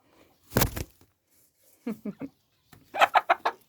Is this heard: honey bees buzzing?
no